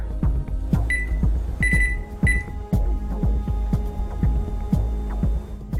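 Electronic oven timer beeping after an iPhone 5 was baked at 200 degrees for an hour, a few short high-pitched beep bursts over a steady hum and low rhythmic thumps.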